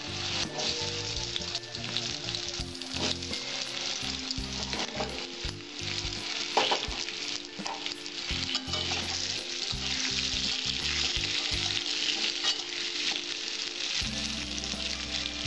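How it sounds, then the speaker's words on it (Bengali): Potatoes seasoned with salt and turmeric sizzle steadily in hot oil in a pan, a loud continuous frying crackle with occasional stirring scrapes. "আমি তেলটার মধ্যে আলুগুলো ছেড়ে দিলাম।"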